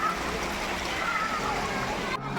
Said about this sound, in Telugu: చూడండి ఈ వాటర్ ఫాల్స్ అనేది కొండపై దాకా వెళ్తుందండి.